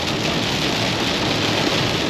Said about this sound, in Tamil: ட்ரிப்லேயே இன்றைக்கி தான் பயங்கர மழை